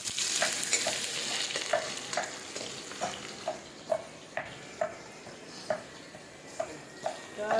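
Onions fry in a pan for a spiced jackfruit curry, a steady soft sizzle broken by regular, evenly spaced scrapes and taps of a stirring spoon, close and continuous.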